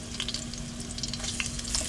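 Ginger sautéing in a little cooking oil in a pan, a steady close sizzle with small popping crackles throughout.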